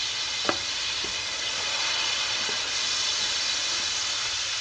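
Tomatoes, ginger, garlic, garam masala and chili sizzle steadily in a pan for chana pulao, a dense, even hiss throughout with a few faint spoon taps beneath.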